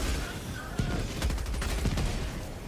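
The MG43 machine gun in Helldivers 2 fires in a sustained, dense burst of rapid shots amid loud battle noise, steady and close throughout with no talking.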